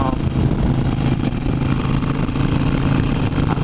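A 2015 Harley-Davidson Iron 883 engine runs with a steady, loud, low rumble while riding, mixed with constant wind noise and no pauses.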